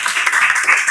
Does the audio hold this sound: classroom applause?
yes